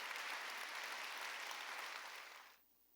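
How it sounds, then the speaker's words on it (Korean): Applause from a church congregation at a Wednesday worship service, a dense, steady clapping that fills the room for about two and a half seconds and then stops abruptly, with no talk over it. "깨달은 사람만 박수 치라고."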